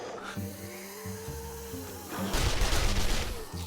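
Gunfire in 7 Days To Die: a few sharp gunshot bursts fire in quick succession, loud and close, after a short stretch of low rumbling.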